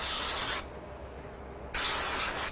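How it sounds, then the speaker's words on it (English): Spray adhesive hisses in two bursts from an aerosol can onto the back of a paper card for a geometric quilt card, a broad, loud hiss that pauses for about a second before resuming. "I'm just going to take and put a little bit of spray glue on the back of this one."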